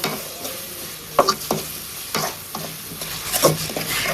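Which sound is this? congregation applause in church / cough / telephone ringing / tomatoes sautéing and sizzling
tomatoes sautéing and sizzling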